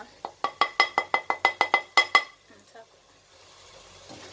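A metal spoon knocks rapidly against a pan about a dozen times in a quick, even rhythm while mushroom biryani masala is stirred and fried, then the clatter stops and a soft, faint sizzle is left.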